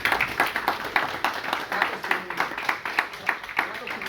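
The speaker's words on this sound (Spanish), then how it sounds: "Un fuerte aplauso para él." An audience claps for a speaker on AI-driven news generation and automated disease diagnosis at the IAAR 2018 event. The clapping is moderately loud and the individual claps are distinct, forming an uneven patter that continues throughout.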